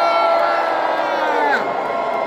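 A large seminar audience cheers, whoops and shouts loudly for team Android, a dense sustained roar of many voices that holds steady for a couple of seconds and then eases slightly.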